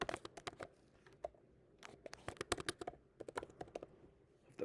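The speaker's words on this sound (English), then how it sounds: "Gotta work on the typing." Someone types on a computer keyboard in quiet bursts of quick, light key clicks, with short pauses between runs, close by and alone.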